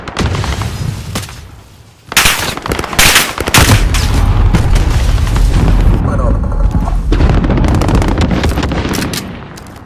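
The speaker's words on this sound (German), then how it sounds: "Feindliches Geschütz aktiv." An enemy gunship in Call of Duty Modern Warfare rains down heavy, sustained machine-gun fire mixed with deep booming explosions, loud and nearly continuous, with a voice announcement heard amid the barrage.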